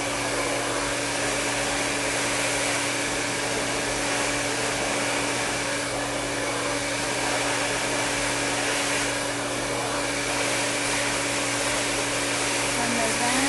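A hair dryer blows steadily at close range while hair is being blow dried, a constant loud whooshing hum with a steady motor whine running unbroken throughout.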